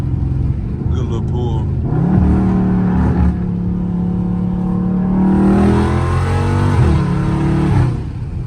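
A Dodge Charger Scat Pack on a late-night drive, its loud engine note rising as it accelerates hard, deep rumble climbing in pitch over several seconds before easing off.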